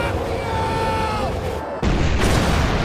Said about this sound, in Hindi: जहां काफी बड़ा धमाका होता है